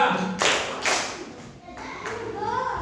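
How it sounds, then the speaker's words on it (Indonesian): A group of children in a classroom clap together in a quick rhythmic burst on a counted chant, several sharp claps close together, with some voices and room noise around them. "Tepuk 1, 2"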